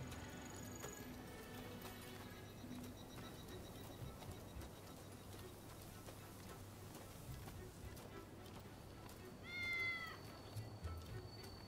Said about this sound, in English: There you are, kitty.